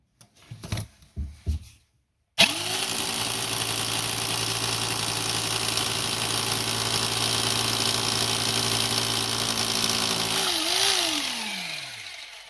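A loud hammer drill drilling into a wall runs steadily for about eight seconds after a few short knocks, its droning motor pitch steady, then dipping and winding down at the end.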